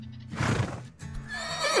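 Horses in the Roblox Brookhaven video game let out a loud, close whinny, followed by a second rising neigh with a hint of hoof clip-clop, and no talk over it.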